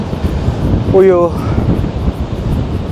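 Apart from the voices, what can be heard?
strong wind at the river mouth by the ocean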